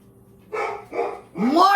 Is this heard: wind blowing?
no